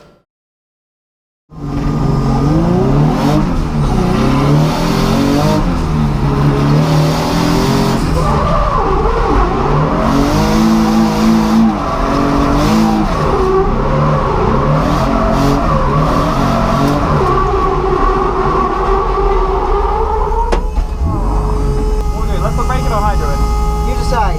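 A drift car on practice runs at Driftland, its engine revving hard and screaming through shifts while the tyres skid and squeal at length, loud and close, with speech over parts of it.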